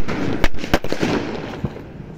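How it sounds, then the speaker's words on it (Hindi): A special string of Diwali firecrackers (ladi) goes off outdoors in a quick run of loud, close, sharp bangs, two standing out, followed by fainter crackling pops. "ये स्पेशल वाली लड़ी को जला के देखते हैं"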